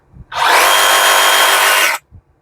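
Brand-new reciprocating sabre saw, made in Mexico, switched on once for about a second and a half of loud, even motor whine, then stopping abruptly, with quiet handling sounds before and after.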